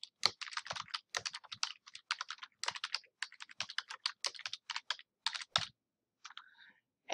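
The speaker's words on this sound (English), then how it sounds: "first I'm going to type the text" Rapid clicking keystrokes on a computer keyboard, close and crisp, typing in quick bursts with short pauses, alone with no voices.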